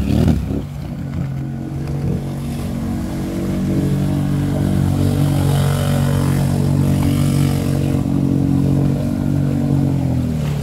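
A Stels Guepard 800 or BRP Outlander ATV engine idles and revs steadily at close range, a continuous low throbbing drone that swells slightly and holds for about ten seconds, with no talk over it.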